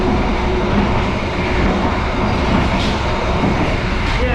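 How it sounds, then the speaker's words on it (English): Interior of an economy class train running from Jakarta to Yogyakarta at close to 100 km/h: a loud, steady rumble and rushing roar with faint clattering, continuous and up close throughout. "this train does about 100 kilometers an hour"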